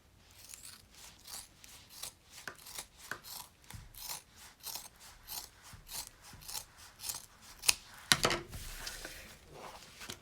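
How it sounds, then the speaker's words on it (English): Scissors trim the fabric lining of an in-the-hoop appliqué purse. Many quick, crisp snips follow one another in a steady rhythm, close and quiet, with a louder rustle near the end. "Now I'm going to cut my lining into an angle like that."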